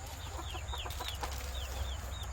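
Chickens clucking and chirping softly in short repeated calls, somewhat distant, over a constant low rumbling background hum.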